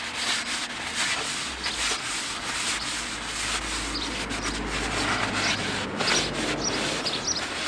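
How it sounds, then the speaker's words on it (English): A cloth rubs the front brake disc of a Lotus Esprit S3 clean, a close, continuous scuffing and wiping with faint bird calls in the background. "Give the brake disc a bit of a clean"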